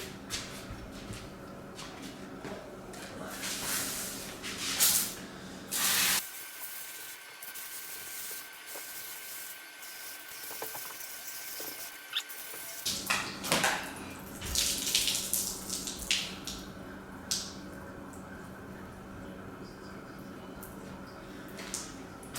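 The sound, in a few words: garden hose spraying water to rinse a skull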